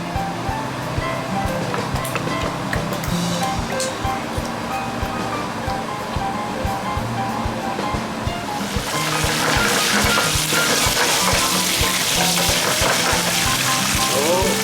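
Garlic frying in olive oil over a high flame, a loud steady crackling sizzle that swells brighter and more intense partway through.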